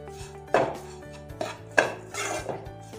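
A spoon clinks and scrapes against a bowl in a few separate strokes as sugar is mixed into a wheat flour laddu mixture, close and fairly soft over a low steady hum.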